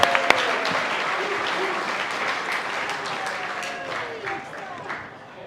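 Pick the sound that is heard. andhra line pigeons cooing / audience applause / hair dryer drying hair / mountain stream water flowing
audience applause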